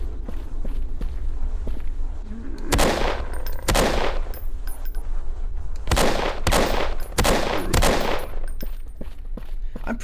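Gunfire in a zombie hospital video game, several sharp loud shots fired in short clusters over a steady low background with faint footsteps in between.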